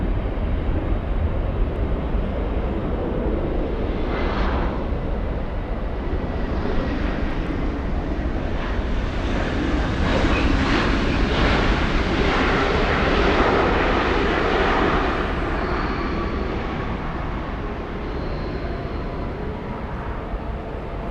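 Jet airliner taxiing at LAX, moving from taxiway Kilo onto taxiway Lima, gives a steady, loud engine roar with rising whine, constant throughout and no voices.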